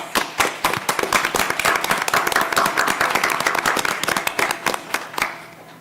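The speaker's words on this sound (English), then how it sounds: "Let's give our parents a round of applause." A round of applause for parents at a school district board meeting: many hands clapping briskly and loudly in a crowded room, sustained throughout and thinning slightly at the end.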